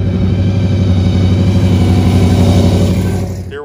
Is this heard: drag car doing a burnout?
yes